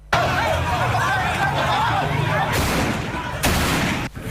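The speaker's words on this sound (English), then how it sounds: "So you hear the gunshots there that actually characterize the attack" Gunfire during an attack on an anti-galamsey police task force, several heavy, booming shots cracking over crowd noise and shouting voices, with loud bursts about a second apart toward the end.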